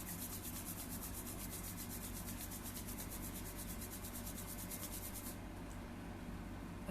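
Two palms rub together steadily in a quiet room, a soft continuous swishing friction that runs for several seconds and then stops.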